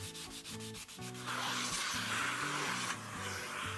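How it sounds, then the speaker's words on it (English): A routed wooden bowl being sanded with 220 grit sandpaper on a 3-inch Velcro mandrel; a loud, continuous abrasive rubbing with a steady tonal whir, close and alone. "Here I'm using a 3-inch Velcro mandrel with 220 grit sandpaper."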